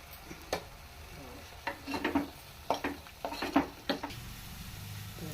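In a pan of garelu pulusu seasoning with asafoetida, a spoon scrapes and stirs in faint, irregular strokes over a soft sizzle of frying, with no talking.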